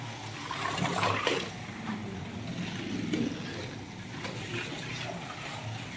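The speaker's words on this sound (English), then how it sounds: "Just basically the sound of the tires and the sound of the guide" A Thunder Slot Ferrari 350 slot car runs on its track, a steady low whirring rush of tires and guide gliding along, fairly quiet and continuous with no gear whine and no voices.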